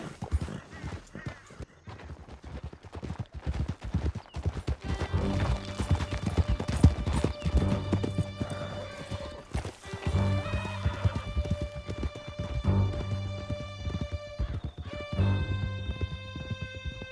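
Horses gallop in Red Dead Redemption 2, with a dense, rapid clip-clop of hooves rolling steadily throughout and a whinny rising near the end, all under game music.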